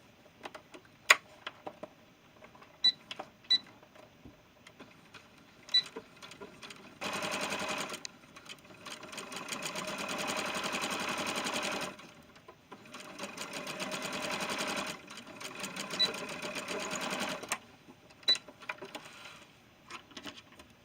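A home sewing machine stitches a doll gown in two steady, whirring runs of several seconds each, with soft clicks and ticks from needle and fabric handling in the quiet pauses between.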